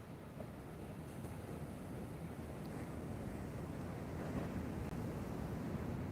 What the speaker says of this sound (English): Waves, Kevin.